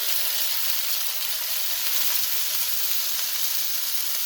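Ginger and garlic hit hot oil in a pan for a chicken and mixed vegetable dish, producing a steady, close, bright sizzle that holds evenly throughout with no talking.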